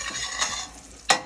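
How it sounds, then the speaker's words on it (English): Butter and marshmallows melt in a pot for Lucky Charms dessert bars while a spoon stirs, producing soft scraping swishes and a sharp utensil clack near the end. "you're gonna keep stirring until they melt"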